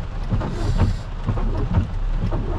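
Heavy rain pours steadily outside a garage in Dubai, with low rumbles of thunder rolling underneath in a continuous dense wash, close and fairly loud with no talking.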